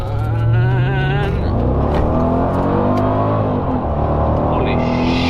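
A Mercedes CL55 AMG with a RaceIQ tune accelerates hard from inside the cabin, its engine note climbing steadily in pitch through the gears, loud and close, with people talking over it.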